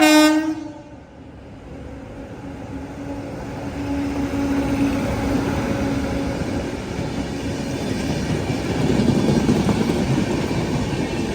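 Hazrat Nizamuddin Duronto Express passing through Ernakulam Town railway station, opening with a loud sustained horn blast that fades into a steady rumble of carriages rolling by close at hand.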